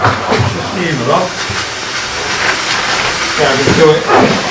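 Steam hisses steadily as a 15mm or 22mm plastic barrier pipe coil is heated to straighten it, a loud continuous rushing noise with someone talking over it.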